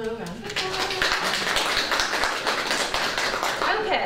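A community audience at an artist talk gives a round of applause, dense steady clapping from many hands filling the room at fairly close range, with a voice heard at the start before the clapping takes over.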